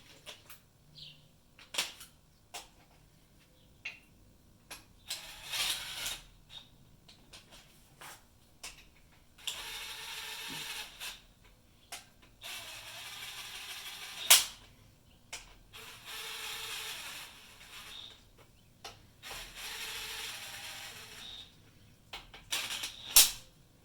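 Bed plate bolts on a Dodge 4.7 engine being run down by hand make intermittent ratcheting bursts, with sharp metallic clicks and taps in between, close and moderately loud.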